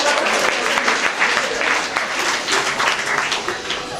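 An audience at a sorority chapter event breaks into lively applause, busy overlapping claps filling the room evenly for several seconds, with a faint murmur of crowd under the clapping.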